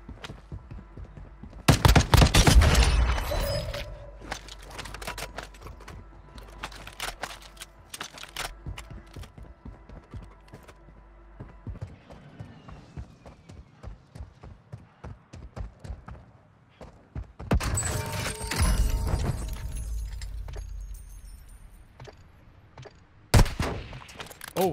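Gunfire from the mobile shooter Warzone Mobile, played on an iPad Pro M2: loud bursts of rapid shots and single pops come in clusters across the stretch, with clicking mechanical game sounds between them.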